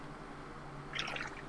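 Water sloshes and splashes inside a mop bucket as it is rolled across a store's sales floor. A short, quiet slosh of liquid rises near the end over a low background hum.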